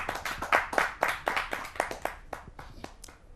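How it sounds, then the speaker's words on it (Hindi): Audience clapping to welcome a teacher at a Hindi poetry gathering. Distinct, fairly sparse claps from a small crowd, a little uneven at first, that gradually thin out and fade over a few seconds, with no voices. "आप सबकी जोरदार तालियों से।"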